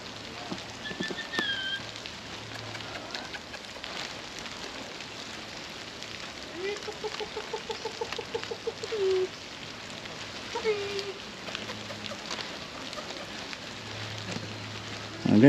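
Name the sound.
rain on camera lens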